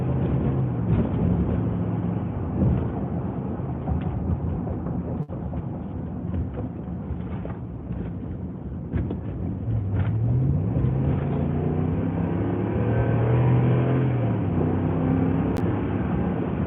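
Steady low rumble of a car being driven on roads in Irving near DFW airport, heard from inside the cabin with continuous road and engine noise throughout.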